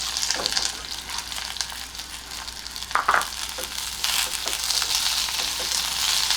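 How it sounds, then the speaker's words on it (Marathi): Sliced onions sautéing with whole spices in a pan for a soya chunks curry, a steady hissing sizzle with occasional scraping stirs and a brief clatter midway, close by and without talk. "कांदा लालसर होईपर्यंत आपल्याला हे परतून घ्यायचं आहे"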